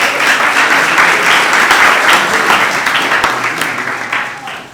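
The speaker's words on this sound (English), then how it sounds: "Give yourselves a round of applause." A talk show audience claps for themselves, a sustained round of dense applause that holds steady and then slowly tapers off near the end.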